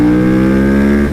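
A cold motorcycle engine revs hard and accelerates in one loud, close, steady rising drone lasting about a second.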